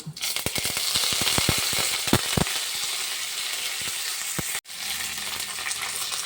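Okra frying in a pan, giving a loud, continuous close sizzle broken by crackling pops and rattling stirs, with a brief cut near the end before the frying carries on.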